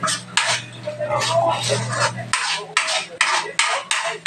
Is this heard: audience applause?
no